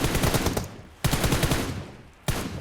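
Rapid automatic gunfire from the mobile battle royale game PUBG Mobile during a team deathmatch, three loud close bursts separated by brief pauses, with no talk over it.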